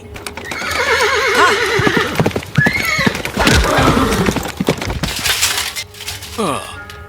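Horses neigh and whinny repeatedly at a jousting tournament, loud and close, with hooves clip-clopping and a sharp crack partway through, layered under a busy mix of voices and commotion.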